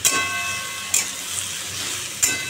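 Papaya and potato curry sizzles and hisses in a pan, a steady close frying noise broken by three sharp scraping bursts as it is stirred.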